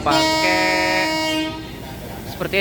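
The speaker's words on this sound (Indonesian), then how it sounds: "sekarang masuk di jalur 1. Rangkaian dari kereta api Parahyangan yang bakal gua naikin" The horn of the Parahyangan passenger train blares loudly with a steady tone for over a second as it arrives at the platform, then fades into rumbling station noise.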